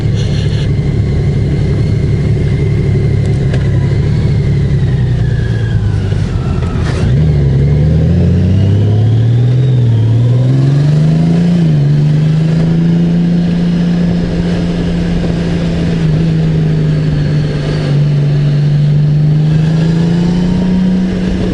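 A 2024 Honda Goldwing Bagger six-cylinder engine with DCT gearbox revs hard and accelerates, its pitch climbing and dipping through gear changes, loud and steady throughout with no talking.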